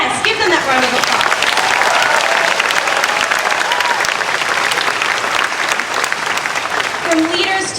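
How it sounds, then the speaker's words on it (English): Loud, sustained applause from a large crowd at a theme park anniversary ceremony honoring cast members, dense clapping with cheering voices mixed in throughout. "Yes, give them that round of applause."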